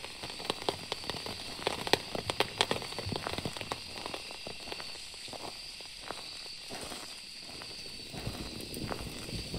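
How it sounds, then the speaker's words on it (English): Rain patters on a tarp at a campground in Phasmophobia, a continuous close drumming of drops with sharper individual taps and faint insect chirps behind. "listen to the rain on the tarp"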